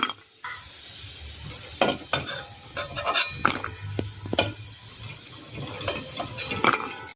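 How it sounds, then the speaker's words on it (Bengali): Carrots fry in hot oil for a mixed vegetable dal, giving a steady close sizzle with scattered stirring clatters and scrapes throughout, no talking. "এবার ওই তেলেই গাজরগুলোকে ভেজে নেব।"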